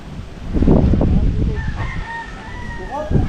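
A rooster lets out a long, wavering cock-a-doodle-doo from a short distance outdoors, following a brief burst of low murmuring voices and steady ambient noise.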